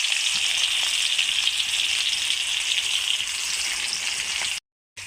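Food fries in a pan with a strong, steady hiss and crackle, close and continuous, cutting out abruptly near the end.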